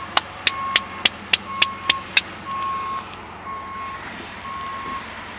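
A transport truck's reversing alarm beeps in a steady, evenly spaced series of sharp tones while it backs up, then continues more faintly over a low engine rumble.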